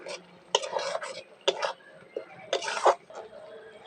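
Spoon stirring raw prawn curry with torn lemon leaves in a pan, a few distinct scraping clatters against the metal spaced through the stretch, close and moderately loud, with faint sizzle beneath.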